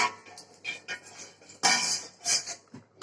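Dishes, pots and metal utensils being washed by hand, with close clanks and clinks of cookware knocking together in irregular bursts, loud and without talk.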